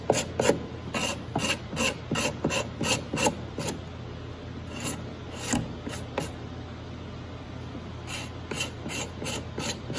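Rasping strokes of sanding across the wooden body of a handmade ukulele after binding, cleaning off glue smudges, repeating in quick bursts and then more sparsely, close and moderately loud with no talking.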